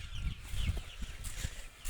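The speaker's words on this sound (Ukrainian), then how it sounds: "Ось, качки ходять, курчатка ходять вже, то другий день." Faint chirps and soft clucking from chicks and ducks moving about, low in level against a constant background hiss.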